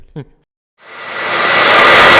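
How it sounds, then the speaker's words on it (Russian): After a short vocal blip and a pause, a hair dryer switches on and blows with a steady, loud rushing whoosh that builds and holds. "Вообще, любой фен для нагревания подойдет."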